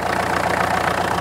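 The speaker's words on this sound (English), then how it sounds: "she's been idling now for about 10 minutes" A Peugeot 504 pickup left in a field for years idles with a slightly lumpy, uneven diesel rhythm, loud and close, a steady pulsing chug throughout with no talking.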